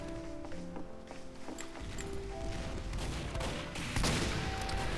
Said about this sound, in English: I'm just shooting a couple shots in the pyro, got 102 on him.